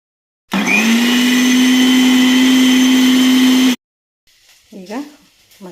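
A mixer grinds coconut and chickpeas into a paste with a loud, steady whir for about three seconds and then stops abruptly. A voice speaks briefly afterward.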